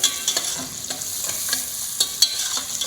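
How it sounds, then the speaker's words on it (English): Onions sautéing in a pan, a brisk close sizzle broken by frequent scraping stirs and light clinks of a utensil, fairly loud with no voices. "first we are going to add the onions. Then nicely saute."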